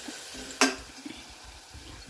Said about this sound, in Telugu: ఇక ఇప్పుడు ఆ మెంతి ఏదంతా ఫ్రై అవుతూ ఉంటుంది